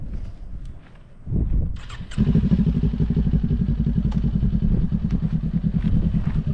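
A beginner's motorcycle engine idles quietly, then revs up and settles into a loud, steady rumble as the bike pulls away and shifts into second gear, close by with a faint mechanical clatter.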